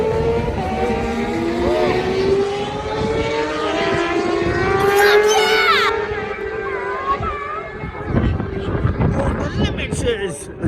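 A British Superbike engine roars loud and steady near its rev limiter during a 2021 race at Donington Park, with a sustained high-pitched drone and an excited voice talking over it.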